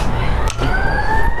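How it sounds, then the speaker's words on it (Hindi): A siren wails in Dharamshala, a loud, steady tone that sweeps slowly upward and carries on through the whole stretch with nothing else over it. "अरे साइरन बजा रहा"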